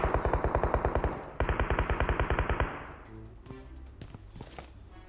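Rapid automatic gunfire from the video game PUBG Mobile rattles in two long sustained bursts, then gives way to scattered thuds and softer game noises.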